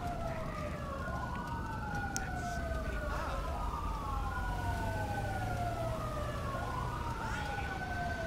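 Fire engine sirens wail and yelp in GTA 5 as the trucks arrive, several overlapping rising-and-falling tones sweeping up and down over a low engine rumble, moderately distant and steady.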